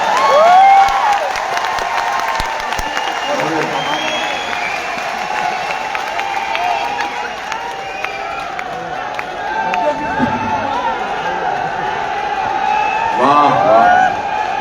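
Crowd at a rally applauding and cheering, a dense continuous wash of clapping and shouts with whoops rising near the start and end, and a speaker's voice heard over it.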